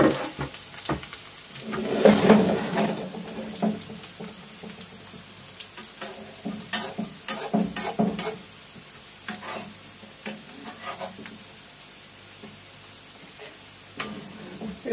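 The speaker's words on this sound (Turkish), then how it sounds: "Bu şekilde birazcık alt kısmını kızartacağız." Oil sizzles and crackles steadily as food fries in a covered pan, with occasional clinks and scraping of a utensil turning it, close by.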